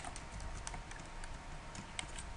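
Computer keys are pressed for shortcuts in a quiet room, giving light, scattered clicks at an irregular pace.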